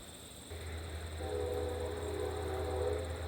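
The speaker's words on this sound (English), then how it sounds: "You can hear that train going by." A train rumbles past at close range, a steady low roar building with sustained horn-like tones layered above it.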